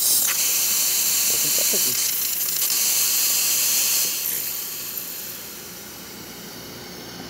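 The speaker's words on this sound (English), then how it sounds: "You can see all the steam coming out of the machine" Steam blasts from the wand of a Breville Duo espresso machine at full pressure, a loud, dense hiss lasting about four seconds before easing off to a quieter tail, with a brief spoken remark over it.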